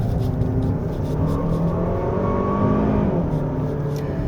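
A 2024 Hyundai Sonata N Line 2.5T engine revs high in Sport Plus mode with active sound design switched off on a winding mountain road, giving a steady, loud, buzzing drone with no talk over it.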